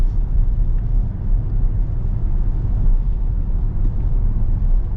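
A modified, lifted 2025 Toyota Tacoma TRD Off-Road truck with independent suspension is driving, giving a steady, heavy low road-and-engine rumble with a constant whir inside the cab, with no talking.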